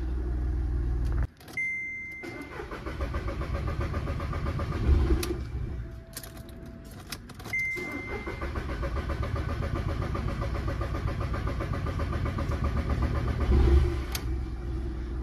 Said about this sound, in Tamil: இந்த இன்ஜினோட ஸ்டார்டிங் பாருங்கள். இவ்வளோ டிலே கழிச்சு தான் ஸ்டார்ட் ஆகுது.